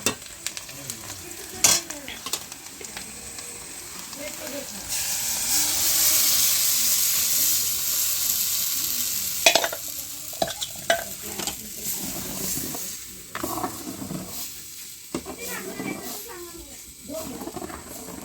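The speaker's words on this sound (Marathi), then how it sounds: "चला आता मस्त त्याच्यात टाकून दिलेलं आहे मोडलेलं पीठ आणि उकळी येऊ द्यावं लागेल" Gram flour pithla cooks in a pan, a spoon stirring and scraping through a bubbling, sizzling mixture with occasional knocks against the pan; close by, with people talking over much of it.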